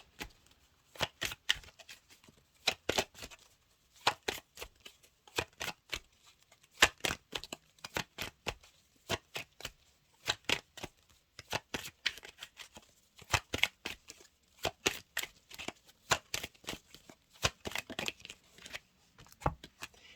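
Oracle of the Rising Sun oracle cards are shuffled by hand, producing quick close riffling and tapping bursts in an uneven, ongoing rhythm with short gaps between handfuls.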